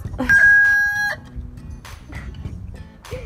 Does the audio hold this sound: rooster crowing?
yes